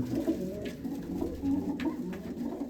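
Lotan (roller) pigeons cooing in a loft, soft repeated low coos close by with a few brief higher calls, steady throughout and no talking.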